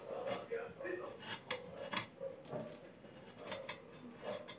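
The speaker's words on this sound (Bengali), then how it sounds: "আলু কাটছি এখন।" A knife cuts through potatoes at close range in a home kitchen, a series of irregular faint clicks and taps against a board or dish, with soft, brief voice in the background.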